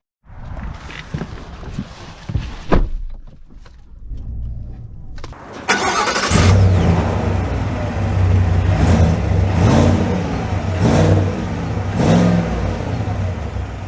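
A 2023 GMC Sierra AT4X pickup truck's engine cranks and fires up after a few quiet moments, then settles into a steady, loud running rumble with light revving as it begins to drive, with no talking.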